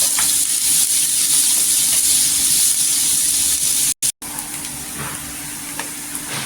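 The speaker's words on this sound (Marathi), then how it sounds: "इथे कांदा छान असा गोल्डन कलर छान असा फ्राय करून घेतलेला आहे" Chopped onions fry in a small amount of oil in a pan, giving a steady, loud, bright sizzle that runs continuously with only a brief dropout, close up and without any voices.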